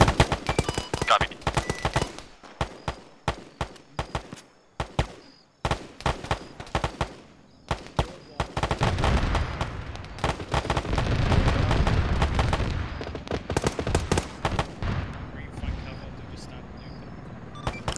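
Bursts of 30 mm cannon fire in Arma 3, sharp repeated heavy reports in clusters with gaps between volleys, followed by a rolling rumble of impacts; radio-style voices speak intermittently.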